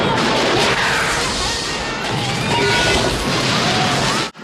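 Explosions from the 1986 film Highlander roar in a dense, loud, continuous blast of rumbling and crackling debris, sustained for several seconds before cutting off abruptly.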